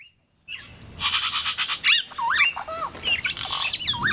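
Birds squawk in an indigenous Kambeba village on the Rio Cuieiras near the Rio Negro. Harsh, loud calls come close and in quick overlapping bursts, starting after a brief silence.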